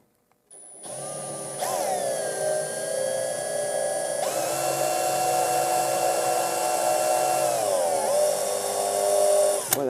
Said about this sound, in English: I'm going to drill 2 holes.